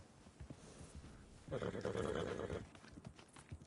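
A horse whinnies loudly for about a second in Red Dead Redemption 2, with hooves clopping and faint talk around it.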